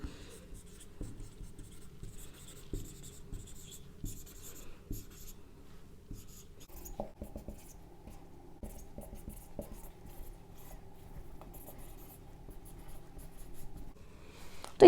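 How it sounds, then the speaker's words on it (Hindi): Chemical element symbols get written out by hand, a soft, close scratching of the writing stroke coming in short bursts with pauses, quiet and steady over a long stretch, with a sharp knock at the very end. "पहले लिख लेने दीजिए"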